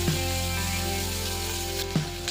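Mustard seeds, curry leaves, onion and green chilli frying in a pan, a steady close sizzle with a low hum beneath and a couple of brief stirring scrapes.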